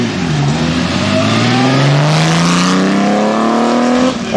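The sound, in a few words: 1927 Porsche six-cylinder vintage car engine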